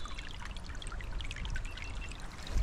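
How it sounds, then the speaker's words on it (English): A forest creek flows over rocks with a steady, close, bubbling trickle and splashing, heard alone. "Oh, listen to that creek flowing."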